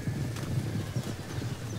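Horse archers in Total War: Rome 2 gallop as a muffled mass of hooves, a low, steady clip-clop rumble with a faint whinny mixed in, moderately quiet throughout.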